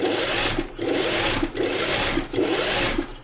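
Sewing machine stitching a seam on a tunic-style shirt, a steady loud whirring run broken by brief pauses roughly every three-quarters of a second, close by with no talk.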